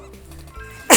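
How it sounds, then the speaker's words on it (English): A single sharp sneeze bursts out at the end of a second of quiet room sound while a Mewgenics game is being played, loud and close. "Wasn't trying to sneeze."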